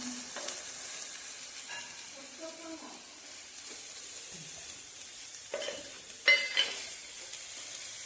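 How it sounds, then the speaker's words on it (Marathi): Raisins, cashews and almonds are dry-roasted and stirred in a pan, giving soft, quiet scraping and faint crackling with a few sharper clinks near the end. "हे पण आपण भाजून घ्यायचे"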